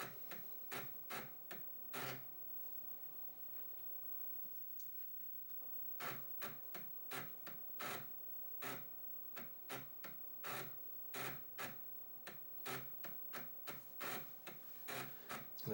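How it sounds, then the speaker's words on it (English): Amiga internal floppy disk drive booting, a sharp series of clicking ticks from the drive head stepping, irregular at first, then a quiet pause, then rapid repeated clicks close up with no talk. "you can clearly hear it booting from the internal floppy"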